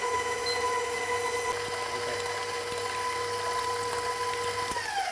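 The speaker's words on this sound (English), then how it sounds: "into the mixer, medium speed," A stand mixer running at medium speed, beating pumpkin bar batter, gives a steady, even mechanical hum and whir with a constant tone and faint clicks, heard close and alone without talk.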